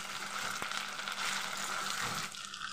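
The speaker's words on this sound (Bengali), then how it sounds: "এবার আদাটা আমি তেলের মধ্যে একটু নেড়ে নেব।" Ginger paste sizzles in hot oil while being stirred, a soft continuous crackle with a single sharp scrape near the start, heard close and fairly quiet with no talking.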